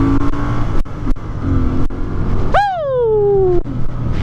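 A 2022 Royal Enfield Interceptor 650 motorcycle rumbles along on a rainy ride, its engine a steady, close, loud drone with sharp clicks and a rising then falling whine partway through.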